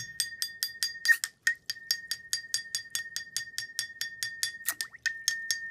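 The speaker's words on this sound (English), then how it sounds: "I'll keep tapping while doing that, and you'll hear the way the sound of the glass changes." A drinking glass is tapped over and over in a steady ringing series of bright clinks while water is squirted in to stir up bubbles, the strikes close and clear with a faint watery rustle beneath.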